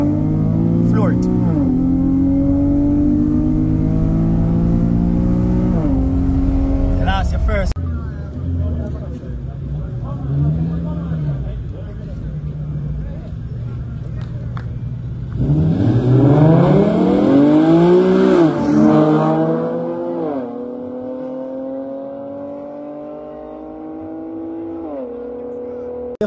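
A race car on a circuit accelerating hard and revving, engine pitch climbing through repeated gear changes, loud and close throughout, with a brief easing off mid-run before a strong surge again.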